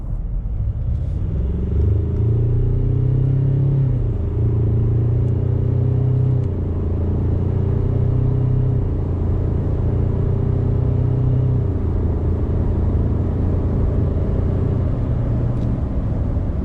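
A 2.5-ton diesel car drives and accelerates, its engine a loud, close, steady rumble whose pitch climbs and settles in several stages as it gathers speed, with no talking.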